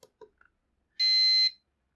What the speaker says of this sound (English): it should only light up, in theory, if it's going to light up at all, when the buzzer is going.